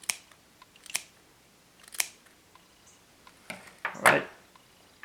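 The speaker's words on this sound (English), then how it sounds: "cut some of the hairs out without that backing stuff" Scissors snipping synthetic fake fur for a fauxidermy zombie monkey: a handful of separate sharp crisp cuts spaced about a second apart, close and alone, the last one slightly longer and rasping.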